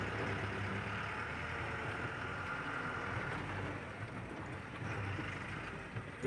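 A tractor engine rumbles steadily past on a farm road in rainy weather, a continuous low diesel drone at moderate distance with no voices over it.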